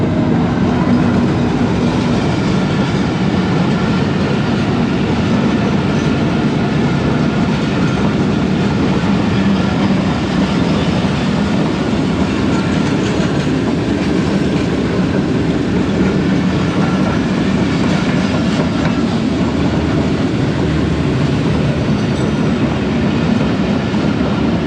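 Tezgam express train hauled by GU40 locomotive 9026 runs at speed, giving a loud, continuous rumble and roar with a faint clickety-clack of wheels on rails and no voices.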